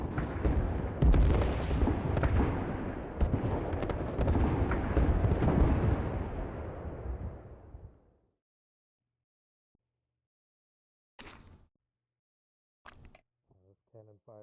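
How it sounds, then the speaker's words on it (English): Cannon fire in a fantasy tabletop role-playing game: a loud, sustained booming roar for about eight seconds that then fades to silence, followed by short bursts of sound and a few voice-like fragments near the end. "Cannon fire, dude."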